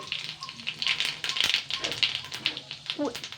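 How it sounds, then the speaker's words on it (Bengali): A spoonful of whole cumin seeds hits hot oil in a pan, a faint crackling sizzle with light pops under a quiet voice. "তেলটা গরম হয়ে গেছে এবার আমি এক চামচ গোটা জিরে দিচ্ছি"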